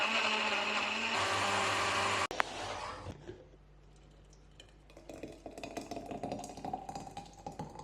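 A blender whirs loudly and steadily while blending mango, carrots, ginger and water, then cuts off abruptly after about two seconds, leaving quieter clinks and handling noises close by.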